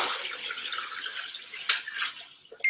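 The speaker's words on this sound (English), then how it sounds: "And so just tip it in" Chicken soup broth tipped from a saucepan into a strainer, giving a close, continuous splashing, pouring rush of liquid with a few brighter splatters near the end.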